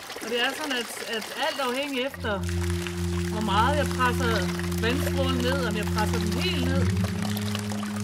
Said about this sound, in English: with gently how your finger very subtly rocks around the turbulence of the water to change the sound in minute ways